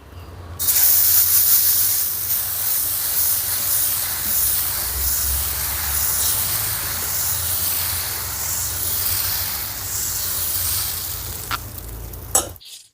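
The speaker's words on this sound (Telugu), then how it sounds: "పెన్నం వేడైందండి ఇప్పుడు మనం దోశ వేసుకుందాం" Instant dosa batter hits a hot pan and sizzles loudly and steadily for over ten seconds, a bright continuous frying hiss with no talk, ending in a brief crackle.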